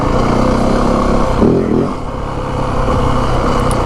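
A 2025 Yamaha WR 450F four-stroke dirt bike being ridden, its engine a close, loud, continuous buzz with a brief dip and swell of revs midway, a voice faintly under it.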